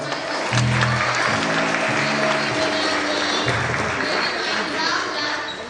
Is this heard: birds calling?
no